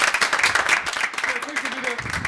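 Audience applause on a television show: a dense wash of clapping runs throughout, while a voice speaks over it toward the end.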